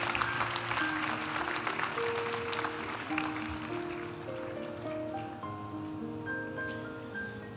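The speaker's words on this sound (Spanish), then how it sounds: "Aplaudimos ahora a los graduados de la maestría en Dirección de Sistemas y Tecnologías de la Información." A crowd applauds master's graduates at a university graduation ceremony, a steady patter of many hands under sustained music tones, fairly soft and gradually easing.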